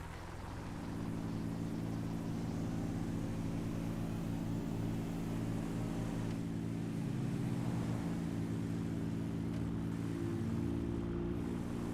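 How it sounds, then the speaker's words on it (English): An airplane passing close by a runway at an airport: a loud, steady drone of engine and propeller noise that holds strong for the whole stretch, with no voices over it. "Hear a plane."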